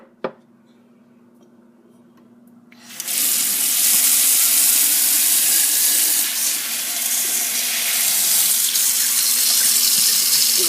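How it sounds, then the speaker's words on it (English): Sprouts are rinsed under a running kitchen tap; after a quiet start with a brief knock, the water gushes on abruptly near three seconds and streams loudly and steadily into the sink to the end. "I'm going to rinse it one more time."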